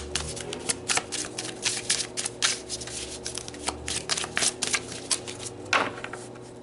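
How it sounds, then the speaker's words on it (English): Tarot cards are shuffled by hand in a steady run of crisp riffling and flicking bursts, close and fairly quiet, with no talk. "So let's pull some more cards."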